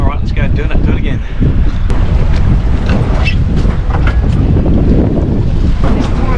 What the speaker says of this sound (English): Be nice if this wind died down a bit.